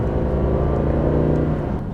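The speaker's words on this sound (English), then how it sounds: "I love that AMG V8 engine" An Aston Martin Vantage with a 500 hp AMG V8 engine drones steadily and loudly, a continuous low rumble from close by, no talk.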